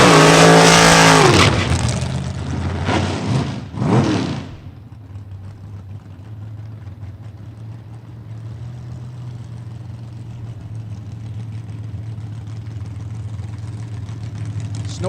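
A funny car's engine at a drag strip roars loud and up close for the first few seconds with harsh, sharp bursts, then drops to a steady, quieter low idle rumble that holds to the end.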